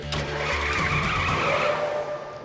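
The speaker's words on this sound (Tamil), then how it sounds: "சீக்கிரமா வண்டி எடுங்க." A car pulls away with its tires skidding and squealing, a steady, loud rush of engine and tire noise that holds for a couple of seconds before easing slightly, with no voices.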